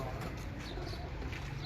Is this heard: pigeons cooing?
yes